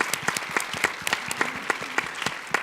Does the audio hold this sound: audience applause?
yes